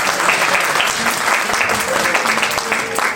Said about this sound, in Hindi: तालियाँ ऐसी होनी चाहिए कि ये हाल ज़रा गूंजे